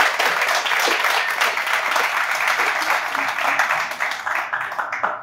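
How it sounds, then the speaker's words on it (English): A crowd applauding loudly and steadily, dense clapping sustained throughout with a slight thinning near the end. "give yourselves a very big round of applause"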